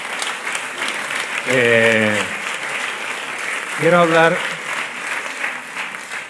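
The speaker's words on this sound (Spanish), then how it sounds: "Un aplauso, por favor, para Paco" Audience applause for a man named Paco at a memorial tribute event, a broad steady patter of clapping throughout, with two brief spoken phrases rising over it.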